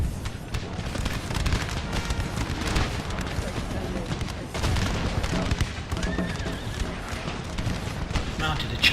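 Musket gunfire in the Napoleon Total War battle game, ragged bursts of cracking volleys and booms over a busy battlefield din of hooves and clatter, with voices talking over it.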